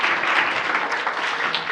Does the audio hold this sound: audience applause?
yes